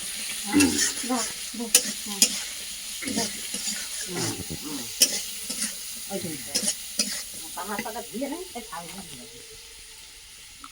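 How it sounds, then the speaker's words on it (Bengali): Tilapia and potato curry being sautéed with salt and chili powder over a wood-fired clay stove, steady sizzling with spatula stirring and scraping, close, while a voice talks over it. "লবণ লঙ্কার গুঁড়ো সব দিয়ে একটু ভালো করে কষিয়ে নেবো।"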